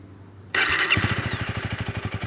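A motorcycle in neutral is started with its start switch: a burst of starter noise, then the engine catches and settles into a steady, close, pulsing idle.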